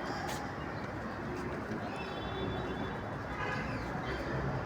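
Pigeons in a pigeon loft coo softly among a dense, noisy background of rustling and shuffling. The calls are faint and intermittent rather than prominent, and no clear voice is heard.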